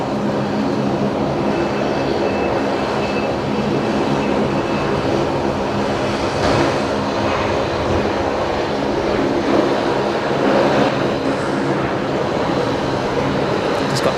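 A Qantas airliner departs Brisbane Airport bound for Adelaide, its engines a loud, steady broadband roar that fills the whole span without letting up.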